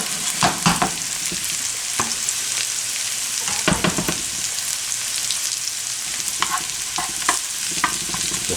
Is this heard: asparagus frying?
yes